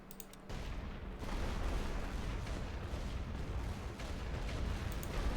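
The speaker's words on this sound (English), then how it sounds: "Heavy artillery. Put them on these other guys." Heavy artillery fire in The Great War: Western Front, a dense continuous barrage of distant booms and rumbling blasts, steady and fairly faint, starting after a brief quieter moment.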